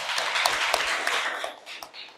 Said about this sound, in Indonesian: Tepuk tangan dulu untuk teman-teman kita.